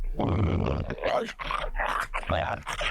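A voice actor performs a dog imitation, rough growls, grunts and barking roars in quick bursts, close and loud with short pauses between them.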